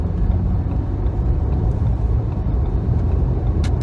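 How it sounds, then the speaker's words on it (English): A vehicle on the road overtakes a slow service truck, heard as a continuous loud rumbling road and engine drone throughout, with no talking. "So there was a service truck like thing, right in front of me. I'm going to pass it right now."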